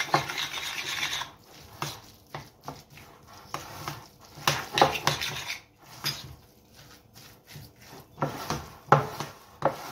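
Utensils scrape and stir a tuna croquette mixture in a bowl, giving an uneven run of rasping, rubbing strokes and light clinks against the bowl, close and moderately loud, with short pauses between bursts.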